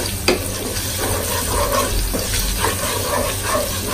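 Chopped onions frying in hot oil in a pan, a steady low crackling sizzle with occasional stirring clicks, close and continuous with no talking.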